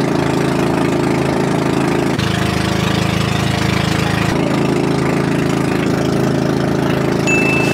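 A steady, loud motor idles with a continuous low rumble throughout, unchanging and close by, with no voices.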